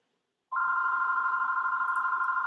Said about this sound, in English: Let me get this phone. It's gonna keep on ringing.